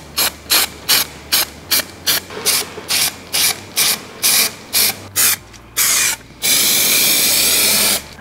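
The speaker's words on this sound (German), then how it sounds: "wir müssen da nochmal so ein bisschen schwarzen Sprühlack da oben drüber packen" Short bursts of black spray paint hiss from a can onto a welded steel roof hatch frame for a camper van, about a dozen rhythmic puffs with brief pauses, ending in one long continuous spray, close and loud.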